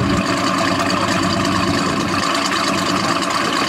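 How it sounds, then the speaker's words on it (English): Oldsmobile Hurst Olds 442 muscle car exhaust, a loud, steady low rumble heard close up with no talk over it. "just listen to this exhaust note"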